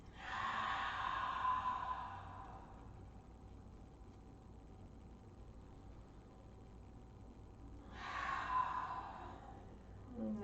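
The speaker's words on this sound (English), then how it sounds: "Taking just 3 or 4 more of these big engaged Ujjayi breaths." Two long, breathy exhales with a throaty hiss during Ujjayi yoga breathing in a hip-opening practice, each lasting a couple of seconds and separated by a quiet pause, close and soft.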